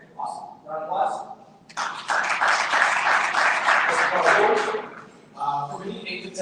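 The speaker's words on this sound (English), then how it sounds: "Round of applause." An audience at a speaker series event breaks into a full round of applause that lasts a few seconds, with a person talking briefly before and after it.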